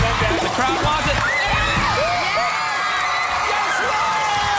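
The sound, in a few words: studio audience cheering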